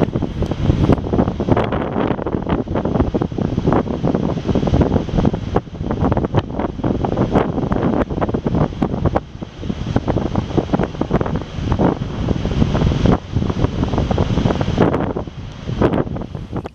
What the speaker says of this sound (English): the wind is picking up more and more out there